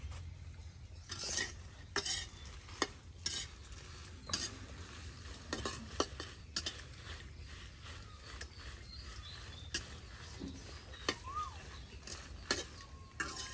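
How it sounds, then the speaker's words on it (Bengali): Chillies fry in oil for a village-style rainy-day meal, a steady low sizzle running throughout, punctuated by repeated scraping and clinking of a spoon stirring against the pan. No voices are heard. "তেল দিয়ে মরিচ ভেজে নেওয়া হচ্ছে"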